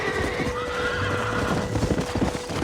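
A horse neighs in the Western video game Red Dead Redemption, a loud whinny over galloping hoofbeats and game background sound, with no talk.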